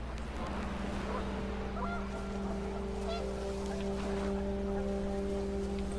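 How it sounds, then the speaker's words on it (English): Panicked geese honk in a gusting wind in the video game What Remains of Edith Finch, several calls rising over a steady droning wind and low rumble, with no voices. "The wind picked up, and panicked geese appeared and quickly went."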